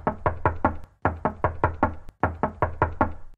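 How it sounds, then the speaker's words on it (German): Knuckles rap firmly on a door in three close bursts of four or five knocks each, loud and near, separated by brief pauses, with no other sound around them. "I'll just knock on the door and see if anyone is home."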